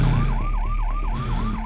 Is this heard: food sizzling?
no